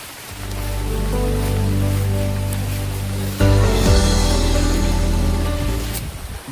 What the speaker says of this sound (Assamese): এতিয়া বৰষুণ পৰি আছে তো চাওক ইফালে পুখুৰীত পানী পৰি আছে